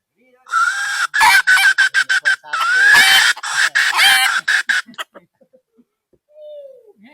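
Chickens cluck loudly and close by in a rural Thai setting, a rapid run of repeated calls for about four seconds that then trails off into a few faint sounds.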